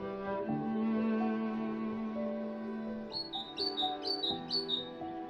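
Birds in a forest give a run of short, bright chirps and squawks, about five repeated calls in quick succession over a sustained musical backdrop.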